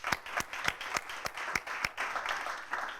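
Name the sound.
audience applause for a speaker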